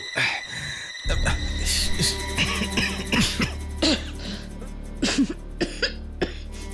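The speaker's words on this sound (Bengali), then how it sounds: "এত বছরের ধুলো কাশি তো হবেই" A cartoon character coughs repeatedly from thick dust in a series of harsh, close bursts with throat clearing between them, a bit uneven in rhythm over a low steady background.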